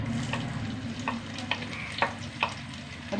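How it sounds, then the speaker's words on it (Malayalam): Six or seven crushed small shallots sizzling in hot coconut oil, a steady close frying hiss with a low rumble beneath and several soft stirring scrapes and pops breaking through. "വെളിച്ചെണ്ണ ചൂടാവണം അതിലേക്ക് ഒരു ആറേഴ് ചെറിയ ഉള്ളി ചതച്ചത് ഇട്ടാണ്"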